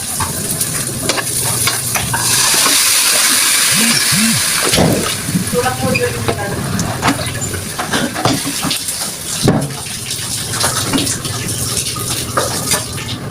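Chicken adobo with vinegar sizzling and being stirred in a pan, a steady close frying hiss with scraping and clinks of utensil against metal, while a voice talks over it at times.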